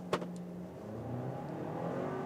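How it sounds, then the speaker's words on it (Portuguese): A Ford Maverick pickup launches from a standstill in a 0 to 100 acceleration test, its engine note climbing steadily and strongly after a brief click, loud and continuous with no talk. "Vamos estolar aqui o carro e sair."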